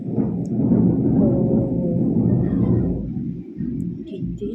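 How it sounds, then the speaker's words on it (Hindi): Low, continuous thunder rumbling through a storm during a power cut indoors, heavy and steady for several seconds before easing slightly, with muffled background sounds. "कितनी बादल गरज रहा है।"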